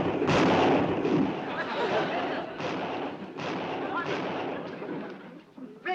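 Gunfire rings out in a country setting as a dense, loud stretch of overlapping shots and booming reports, with several sharper cracks standing out through the rumble.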